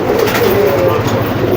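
Pigeons coo inside a loft, a steady, close, fairly loud layer of low rolling calls running throughout with no pause.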